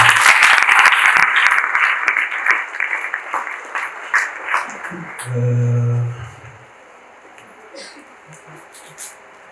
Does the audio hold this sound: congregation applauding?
yes